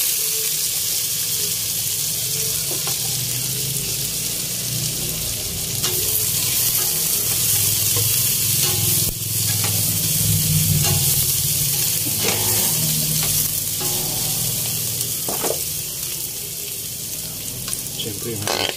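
Garlic, onion, ginger and chicken sauté in a hot pan for chicken tinola, a dense continuous sizzle with occasional stirring clinks, close and loud throughout with no talking.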